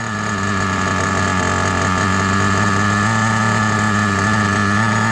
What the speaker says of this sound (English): Very good idle.